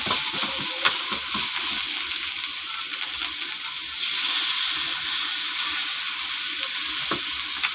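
Chilies stir-fry in a hot pan for spicy stir-fried wild boar, a loud, steady sizzle with occasional scraping clicks of stirring and no voices.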